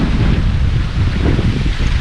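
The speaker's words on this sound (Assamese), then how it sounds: "বহুত বতাহ দি আছে বহুত" Strong outdoor wind buffets the microphone with a loud, continuous low rumble and roar, gusting unevenly for the whole stretch, with no talking.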